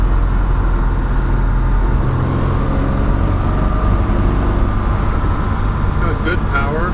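A silver 1970 Jaguar E-Type 4.2 Roadster Series II is driven on the road, its engine a steady, loud drone with road and wind noise and no pauses.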